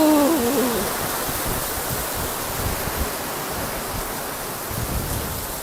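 Steady heavy rain pours down, a dense even hiss throughout, with a brief high whistling tone at the very start.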